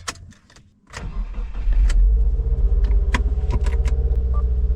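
A Subaru WRX engine cranks briefly after faint key jingles, then catches and settles into a loud, close, steady idle rumble.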